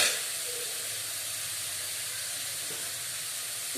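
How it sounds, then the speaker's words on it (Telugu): Potato curry for poori fries in a pan with a steady, broad hiss and sizzle. The sound holds at an even level throughout, close and continuous, with no talking. "బాగా ఫ్రై అవ్వాలండి కర్రీ."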